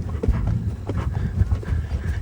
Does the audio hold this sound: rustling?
no